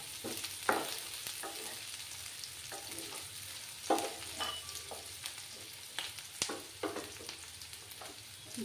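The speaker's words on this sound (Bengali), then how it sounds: "পেঁয়াজগুলোকে একটু লাল করে ভেজে নিতে হবে।" Onions fry in oil in a pan, giving a soft, steady sizzle broken by occasional scraping stirs and small clatters, close up and fairly quiet.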